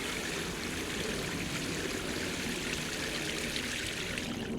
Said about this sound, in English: I'll give him a good water as well.